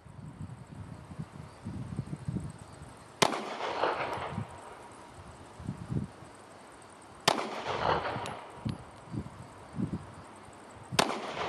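Three sharp gunshots from a compact HS-Produkt H11 Springfield Armory Hellcat pistol crack out several seconds apart at an outdoor range, each echoing briefly, with distant shots and wind rustle between them.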